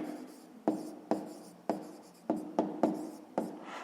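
Pen writing on paper, a series of close, crisp scratching strokes in short repeated bursts, quiet and steady with no talking.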